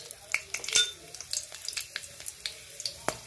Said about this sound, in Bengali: ওই তেলের মধ্যে আমি গরম মশলাগুলো দিয়ে দেবো